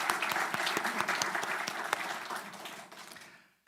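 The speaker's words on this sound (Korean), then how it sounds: "우리 감사와 축하의 마음을 담아 우리 함께 박수할까요?" A church congregation applauds at a pastor's installation service, a brief burst of dense clapping that stays steady and then fades out quickly.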